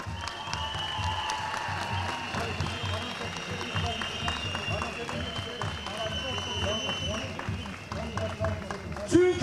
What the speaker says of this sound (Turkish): şimdi İzmir'de direnen bizleri hep birlikte alkışlayalım